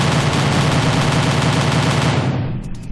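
Turret gun in Kerbal Space Program firing a long, loud, unbroken burst of rapid shots at a rolling radar target, dense and close, then cutting off abruptly near the end into a brief fading tail.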